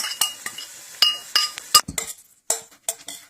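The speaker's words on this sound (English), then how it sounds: "Now we're going to add the cilantro and stir that in." Cilantro is stirred into an egg and vegetable mixture cooking in a pan, with irregular light clinks and scrapes of a utensil against the pan, fairly quiet and close.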